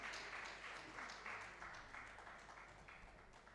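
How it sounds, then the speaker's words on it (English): An audience at a health policy dialogue applauds a panelist on stage, a full, even patter of many hands that stays strong throughout and eases slightly toward the end, with no voices over it. "Please, a round of applause for him."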